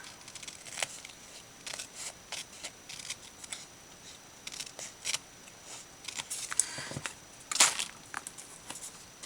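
Sharp, irregular snips of scissors trimming the sides of paper Christmas tags for a tag embellishment book, quiet and close, scattered over the whole stretch with brief rustles of paper between cuts.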